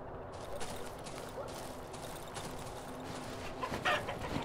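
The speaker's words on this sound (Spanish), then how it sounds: "Son gallinas" Chickens cluck in the video game Darkwood, with faint, sparse bird calls over a low, murky ambient rumble and a few soft knocking sounds.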